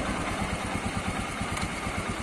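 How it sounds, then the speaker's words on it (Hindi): A Royal Enfield Himalayan motorcycle idles in first gear, its single-cylinder engine thumping in a fast, even, close-up pulse with no talking. "तो फर्स्ट गियर मैंने डाल दिया इस बाइक का, काफी अच्छी नॉइस है इस बाइक की गाड़ी।"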